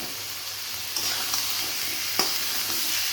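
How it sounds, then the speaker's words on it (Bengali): Jackfruit seeds and taro pieces being stirred through a pan of frying spice paste, a constant near sizzle broken by a few sharp spoon scrapes and knocks against the pan. "একটু নেড়ে চেড়ে নিব।"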